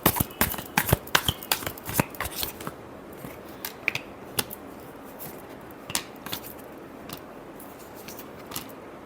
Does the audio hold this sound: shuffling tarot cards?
yes